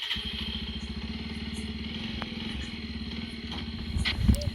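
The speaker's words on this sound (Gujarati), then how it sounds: "હવે કોને બાઈક ફેરવીને ચાલુ કરીએ અને નીકળવાના છીએ" A motorbike engine putters at a steady idle, close and even with a regular low thump, revving slightly near the end.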